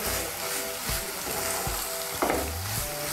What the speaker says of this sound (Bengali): তেলটা ভালো করে মূলোর সঙ্গে মিশিয়ে নেব।